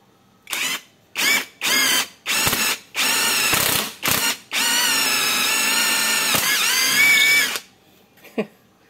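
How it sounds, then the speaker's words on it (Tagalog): Loud bursts from a cordless tool converted from an impact wrench, a run of short triggered whirs and then one longer sustained rattling spin, close up with near silence between pulls and no speech. "siyempre impact wrench to. Medyo maalog talaga."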